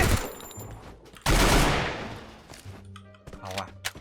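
Gunfire in the Free Fire video game: a couple of sharp cracking shots, the loudest with a long booming tail, followed by lighter thumps while a voice talks over it.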